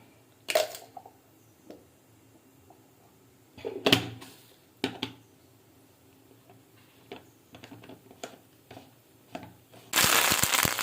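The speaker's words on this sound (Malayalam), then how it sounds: "അതിനകത്തേക്ക് നമ്മൾ ഇത്തിരി കടുക് ഇട്ട് കൊടുക്കുകയാണ്." Mustard seeds spluttering in hot coconut oil in a pan, scattered sharp pops and crackles spaced irregularly at close range, swelling near the end into a loud, dense sizzle.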